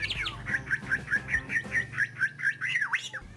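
A white-rumped shama (murai) songbird sings a fast run of bright, repeated chirping notes ending in a swooping whistle, close and clear against faint background hum.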